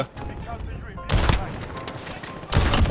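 Kar98 bolt-action rifle fire in Call of Duty Modern Warfare 2019, two loud sharp shot bursts about a second and a half apart over game ambience, with a voice talking faintly underneath.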